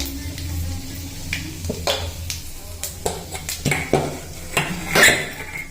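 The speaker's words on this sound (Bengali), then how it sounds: "এবার আমি শুকনো লঙ্কা ফোড়ন আর মেথি মৌরি কালো জিরে দিয়ে দিলাম" Dry chilli, fenugreek, fennel and nigella seeds crackling in hot oil, heard as a quiet sizzle beneath repeated clinks and scrapes of a spoon against a metal pan.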